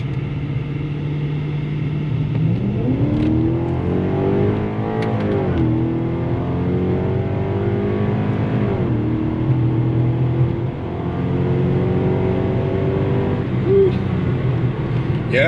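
An Infiniti M56 fitted with a DMS intake accelerates hard around a bend, its engine note climbing loudly through the gears with a rising, harmonic-rich roar heard from inside the car, with brief dips at the shifts.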